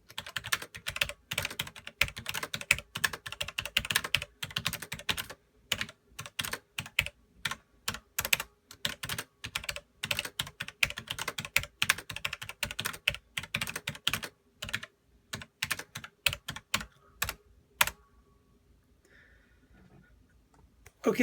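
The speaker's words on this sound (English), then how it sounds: "Now I'm going to move on to the G810 with its Romer G switches. Once again, I'll just type" Rapid clicking keystrokes on a Logitech G810 mechanical keyboard with Romer-G switches, a close, steady burst of typing that stops briefly near the end before one final click.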